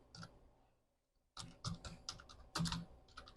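Quick bursts of keystrokes on a computer keyboard while code is typed, close clicks after a brief pause, in uneven clusters.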